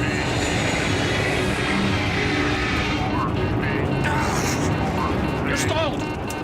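Alaska Airlines Flight 261, an airliner diving from 31,000 feet, roars with loud, continuous engine and rushing-air noise, while voices talk over it throughout.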